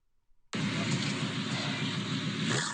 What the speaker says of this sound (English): That was the Pypes pipe bomb catback exhaust on my 2002 Mustang GT.